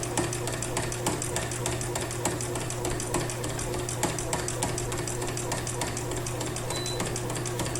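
Domestic sewing machine stitching steadily while fabric is pushed diagonally during free motion quilting in the ditch with white thread, a continuous mechanical whir with rapid needle clatter, close and fairly loud throughout.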